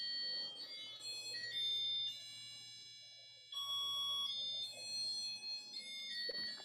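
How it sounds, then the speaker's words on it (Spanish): An electronic alarm rings from a participant's own device during an online lecture, a steady high-pitched tonal beeping pattern that keeps repeating for several seconds, moderately faint, with no talk over it. "hay como una alarma"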